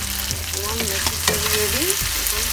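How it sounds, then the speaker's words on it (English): Fish fry in oil over medium heat with a constant close sizzle and crackle, broken by a few sharp spatters and scraping stirs. "I will fry the fish in 2 batches on medium heat."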